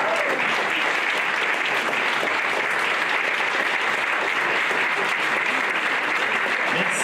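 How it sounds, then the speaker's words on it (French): A concert audience claps steadily and loudly, a dense, even wash of applause from many hands sustained throughout with no break. "Alors, on va vous applaudir,"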